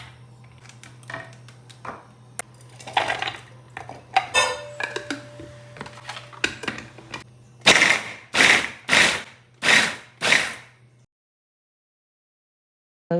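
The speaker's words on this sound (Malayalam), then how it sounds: "അപ്പോൾ ഉള്ളിയും പച്ചമുളകും കൂടി ഒന്ന് ക്രഷ് ചെയ്തെടുക്കുകയാണ്" Shallots and green chillies are crushed for beef curry, first with scattered light knocks and scrapes over a low hum, then five loud, evenly spaced pounding thuds before silence.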